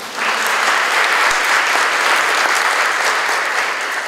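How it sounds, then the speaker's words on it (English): An audience at a high school grand opening applauds loudly and steadily. The dense clapping swells in almost at once and holds without pause for about four seconds. "You can give them a round of applause."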